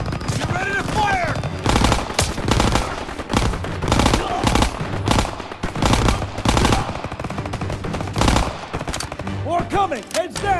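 Heavy automatic gunfire in a Call of Duty WWII campaign firefight, repeated loud bursts and shots rolling over a constant battle din, with shouted voices breaking through near the start and end.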